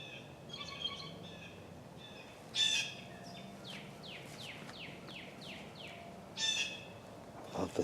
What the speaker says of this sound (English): Love the sound of all these birds.